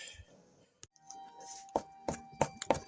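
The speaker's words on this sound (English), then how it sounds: "Just chopping up the meat, making sure it's nice and small." A knife chops meat on a cutting board in four sharp, evenly spaced knocks near the end, preceded by quieter scraping and handling sounds, all close and distinct with no speech.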